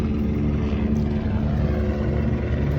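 A helicopter drones overhead above the Thames riverbank in London, a steady loud low rumble with throbbing rotor tone that stays constant throughout.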